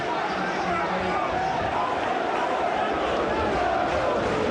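A football crowd at a Luton Town v Millwall FA Cup fifth round match jeers the referee in a dense, steady roar of many voices that fills the stadium.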